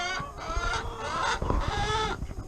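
Cornish Cross meat chickens at two weeks old cluck and chirp busily in a steady overlapping chorus, close and fairly loud, with no talking.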